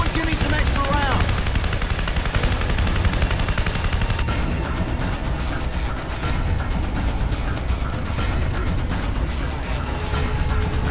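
A heavy machine gun in Terminator Salvation on Xbox 360 fires in one loud, unbroken rattling stream for the whole stretch, with faint voices barely present underneath.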